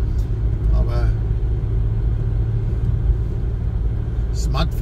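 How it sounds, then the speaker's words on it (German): A Smart car being driven on a commute, its engine and road rumble a loud, steady drone throughout, with faint voices coming through briefly over the noise. "Smart fahren ist schon ein Erlebnis."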